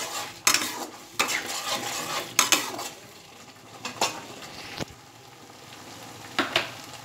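Spice paste with turmeric, cumin powder and salt being sautéed in a pan, with repeated scraping and stirring knocks from a spatula over a low, steady sizzle, close and fairly loud, with no voices.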